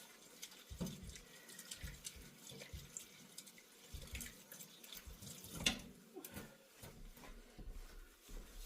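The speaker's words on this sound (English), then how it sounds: "let me go over here and wash my hands a little bit" A tap runs into a sink while hands are washed beneath it, a steady, fairly quiet splashing stream with small clunks and shifts in the flow.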